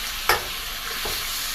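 Sliced pork belly hits a heated pan for Bicol Express with a sharp hiss and crackle, then keeps up a steady sizzle with a second softer burst of frying.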